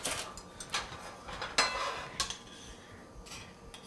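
A metal spoon clinks and scrapes against a pan and plate while pan gravy is ladled over bacon-wrapped filet mignon, several distinct taps and light scrapes close by, no talk.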